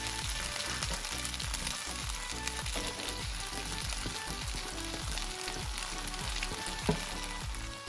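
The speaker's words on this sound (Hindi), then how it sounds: "साथ ही हम अपनी फ्राई जो वेजिटेबल्स है वो ऐड कर देंगे।" Vegetables for chicken chow mein fry in a hot pan with a steady, close sizzle, broken by rhythmic scraping stir strokes throughout, with no talking.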